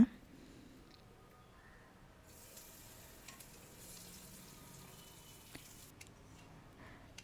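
Colocasia root pieces fry in hot oil with a faint, steady sizzle that swells into a brighter hiss partway through, broken by a few soft ticks.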